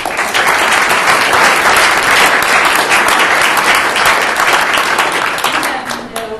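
An audience at a law review symposium lecture breaks into loud, sustained applause, many hands clapping densely and evenly before the sound begins to thin out near the end, with a voice faintly mixed in.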